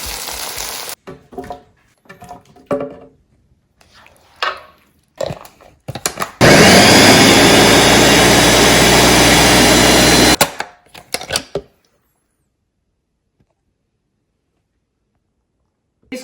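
An electric blender grinds a cooked tomato and onion gravy for matar paneer. First come scattered knocks and clatter as it is loaded, then a loud, steady four-second whirring roar, a few more handling sounds, and silence.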